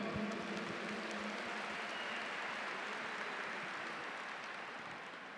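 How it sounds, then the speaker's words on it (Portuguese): An audience at a Catholic talk on raising children bursts into continuous applause, a dense steady clapping that slowly fades toward the end. "Vamos aplaudir a família."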